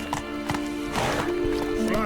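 Hoofbeats of a horse in The Witcher 3 come in a quick clip-clop rhythm, close and moderately loud, mixed with game sounds and a short burst of spoken voice.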